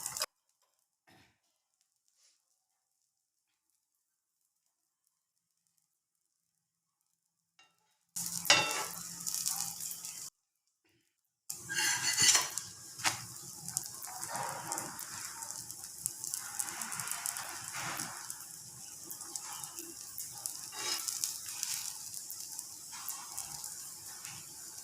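Parotta frying in a little oil on a hot pan gives a close, steady sizzle with scraping and patting from a spatula, coming in after a long quiet stretch and briefly dropping out.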